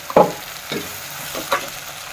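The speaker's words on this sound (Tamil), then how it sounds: "தக்காளி, வெங்காயம் எல்லாமே நல்லா வதங்கிடுச்சு." Tomatoes and onions sauté in a pan for a country chicken curry: three spatula scrapes over a soft, steady sizzle. No one speaks.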